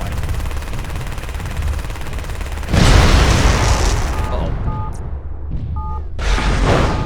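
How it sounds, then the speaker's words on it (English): Loud, continuous machine gun fire and explosive booms from the MechWarrior: Living Legends combat game, a close rattling barrage that briefly drops away before resuming. "I'm just gonna pump him full of machine gun fire"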